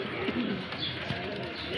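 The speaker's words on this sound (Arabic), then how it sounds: "الحمام ده يا جماعة أول ما جبته" Pigeons in a loft giving soft, low, throaty coos, several short rolling calls close by over a brief stretch against faint background noise.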